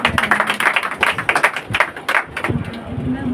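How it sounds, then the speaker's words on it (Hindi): A congregation at a Sunday holy communion meeting claps loudly, distinct rhythmic bursts of hands striking in quick succession, close and forceful, with a voice speaking over the clapping. "प्रभु के लिए जोरदार ताली।"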